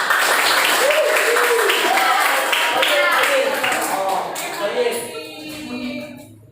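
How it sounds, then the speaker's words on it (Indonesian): A class audience clapping after a lesson, loud steady clapping with voices cheering over it, fading toward the end. "Beri tepuk tangan dulu."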